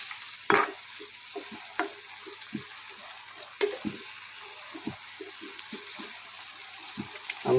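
Peshawari beef with onions stirred in a pot, a quiet sizzle under repeated scraping strokes of a spoon against the pot's metal sides, with a few sharper clanks standing out, close and with no talking.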